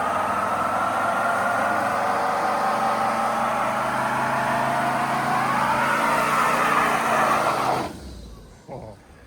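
Loud, sustained roar of a car with a Mercedes diesel engine doing a burnout, a steady straining drone with tire noise that rises slightly before abruptly dropping away near the end.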